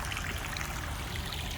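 Water from a busted pipe runs steadily down from a yard, a continuous rushing, splashing flow close by with no pauses and no voices.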